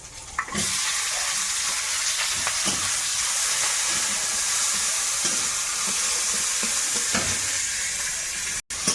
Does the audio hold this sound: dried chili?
yes